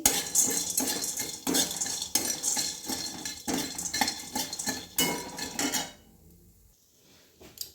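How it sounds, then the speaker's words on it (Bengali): Metal spoon scraping and clinking steadily in a hot karai as bori lentil dumplings fry, busy close-up stirring for about six seconds, then dropping to a faint quiet tail. "এবারে কড়া গরম হয়ে গেছে, আমি এতে বড়িটাকে ভেজে তুলে নেব"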